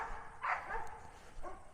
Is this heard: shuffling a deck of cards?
no